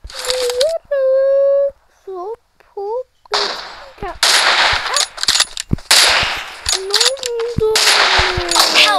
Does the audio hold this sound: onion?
no